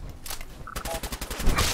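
Enemy gunfire in the video game Fallout 4, a brief burst of rapid, loud shots arriving in a clustered rhythm over a low rumbling background.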